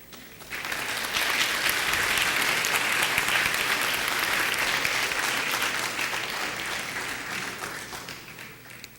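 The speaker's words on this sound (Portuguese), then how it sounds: "Eu não sei se os aplausos foram para ele ou para a frase do Mateus" Loud, sustained audience applause swells in after a brief quiet moment, then holds as a dense, even roar of clapping for several seconds before easing slightly.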